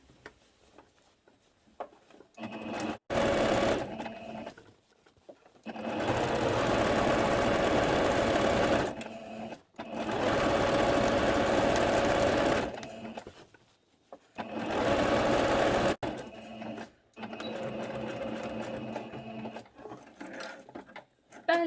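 Sewing machine stitching the elastic waistband of a two-piece skirt, running in several loud sustained bursts of rapid whirring separated by short pauses and small handling clicks.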